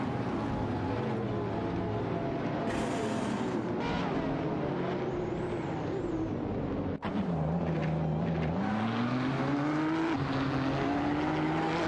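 Race cars including a Radical RXC Turbo 600 and a Lamborghini Veneno roar through a racing video game, engine pitch rising and falling through gear changes with a brief cut partway, continuous and loud.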